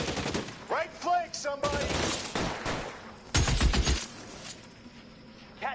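Bursts of gunfire ring out in a shooter video game, with rapid fusillades and single shots mixed under excited shouting from players calling out positions.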